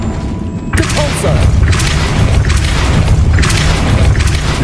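The Depulso spell goes off in Hogwarts Legacy after a brief quiet start, a heavy booming blast followed by rumbling impacts and crashes that stay loud to the end.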